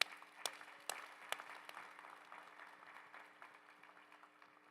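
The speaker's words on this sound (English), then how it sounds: "You deserve a big round of applause" Crowd at a spring graduation recognition ceremony applauds the graduates, opening with a few sharp, distinct claps before settling into faint, thinning, distant-sounding clapping that gradually fades.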